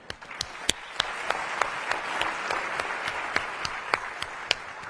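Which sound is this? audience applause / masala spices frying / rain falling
audience applause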